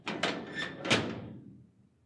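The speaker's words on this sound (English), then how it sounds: "After latching the veranda door" A veranda door swings shut with a few quick knocks and rattles, then a sharper clack of the latch, each impact ringing briefly before fading into quiet.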